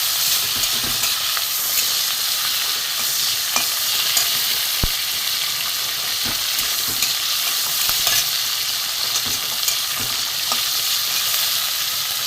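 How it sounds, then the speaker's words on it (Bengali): Prawns for a pumpkin and prawn curry fry in a pan and are stirred, a steady loud sizzle broken by scraping clicks of the spoon against the pan, with no voices. "চিংড়ি মাছটা একটু ভাজা ভাজা হোক।"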